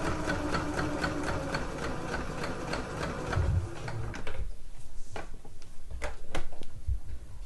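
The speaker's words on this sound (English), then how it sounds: "I'm just using a straight stitch for my woven fabric." A sewing machine runs a straight stitch across woven fabric for a dress pocket, a close, fast, even mechanical whir that slows and stops partway, followed by a few light clicks and handling sounds.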